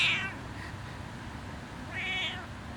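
A pet cat meows twice, close and clear, with a short high call at the start and another about two seconds later, over quiet room background.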